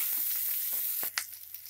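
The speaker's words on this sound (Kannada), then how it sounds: "ಒಂದು 2 ನಿಮಿಷ ಮೀಡಿಯಂ ಫ್ಲೇಮಲ್ಲೇ ಫ್ರೈ ಮಾಡ್ಕೊಂಡು ಈರುಳ್ಳಿನ" Onions fry on a medium flame with a steady, close sizzle, broken near the end by a couple of sharp scrapes or stirs.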